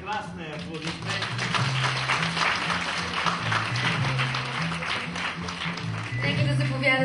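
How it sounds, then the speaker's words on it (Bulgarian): Audience applause at an award ceremony for a Bulgarian fashion icon event, broad clapping running the full length under steady low music with speech-like tones mixed in. "Честито на Илана, прекрасна е, аплодисменти."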